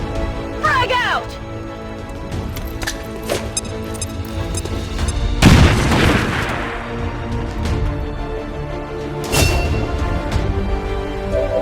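A frag grenade goes off in XCOM 2 as a loud, broad blast midway through, with another sharp impact later, amid continuous game noise and voices.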